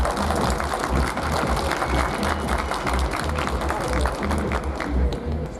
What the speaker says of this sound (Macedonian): Ве молам со огромен аплауз да ги поздравиме нашите учесници.